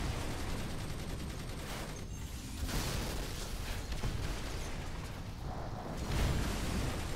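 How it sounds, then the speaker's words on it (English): Flak and chain gun munitions going off in a video game, a dense, continuous barrage of loud blasts and rumbling explosions with brief dips in intensity. "I'm going to use flak again there, and then flak again before chain gun explosion."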